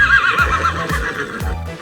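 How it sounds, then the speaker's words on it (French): A recorded horse whinny plays through a voice assistant's speaker, a shrill wavering neigh followed by rhythmic low snorts or hoof-like thumps, heard alone. "Voici un son de cheval."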